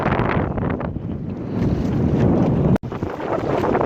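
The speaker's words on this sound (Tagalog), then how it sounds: "Medyo lumalakas na ulit ang hangin at alon." Strong wind gusts buffet the microphone aboard a small traditional fishing boat at sea, a loud, rough, continuous rumble with a brief dropout near the end.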